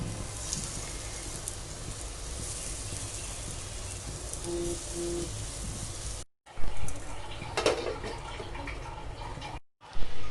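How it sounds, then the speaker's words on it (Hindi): Rajma tikki shallow frying in a pan with a little oil, a steady broadband sizzle running continuously and fairly close, with brief cuts and a couple of louder clatters near the end. "अब मैं ये टिक्कियों को इस पर रख दूंगी सेलो फ्राई होने के लिए।"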